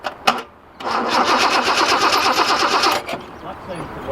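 Datsun 240C engine cranking on its starter motor in a sustained rhythmic whirring churn after a couple of sharp knocks, with a voice speaking nearby.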